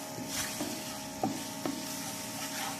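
Flour roasting with onions in a pan for a pasta sauce: a soft, continuous sizzle broken by a few close spatula scrapes and taps against the pan.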